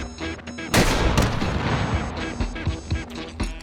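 Rocket launcher firing in the H3VR game: a sudden loud blast near the start of the clip, followed by a long rumbling roar and a few smaller thuds and booms trailing off.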